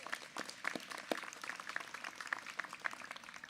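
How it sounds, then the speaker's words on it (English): Scattered audience applause at a spring university commencement ceremony in East Tennessee, faint and distant, with sparse irregular claps spread across the short stretch. "How about a round of applause for those who've helped see you through?"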